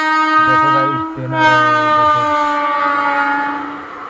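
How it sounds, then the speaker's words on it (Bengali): A train rolls past close by, sounding a loud, sustained multi-tone horn with a short break partway through, over a low rumble of wheels on the track. "দেখো গাইস, ট্রেন"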